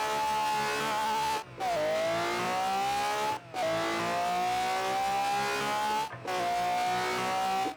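In a video game, a car with a V12 engine swap launches and revs hard, a loud, high-pitched engine note climbing through three long pulls, each cut by a brief gearshift gap.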